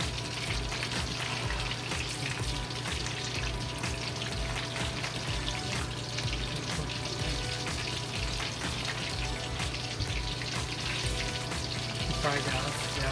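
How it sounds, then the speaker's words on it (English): Garlic pork ribs fry in a pan with a dense, steady sizzle that stays loud and close throughout, without a break. "Fry the other side."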